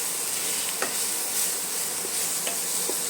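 Spatula scrapes through turmeric and spices in a pan over a steady, bright sizzle, with a few sharp stirring clicks spaced across the stretch; no talking.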